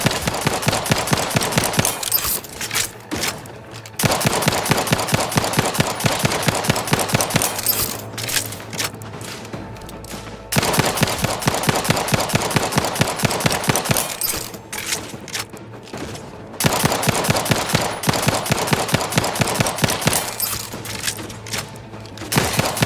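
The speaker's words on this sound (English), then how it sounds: "What are you guys shooting at?" Rapid automatic gunfire from The Outer Worlds 2 rattles in long sustained bursts separated by short pauses, dense and loud, with a faint mechanical hum underneath.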